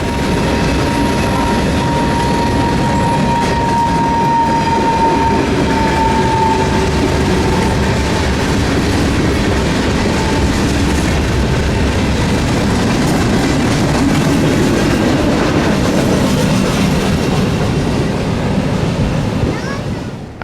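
BNSF freight train Q442 rolls past on Florida's S-Line near Plant City, a loud, steady roar of wheels and clattering railcars filling the scene continuously with no break.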